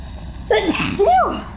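A person in the Final Fantasy 16 video game sneezes once, loud and close, with a sharp breathy burst followed by a brief voiced tail.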